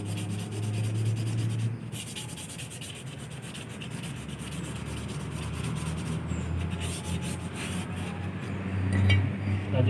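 A brake lining is rubbed with sandpaper in continuous, steady, close scraping strokes that run for about ten seconds.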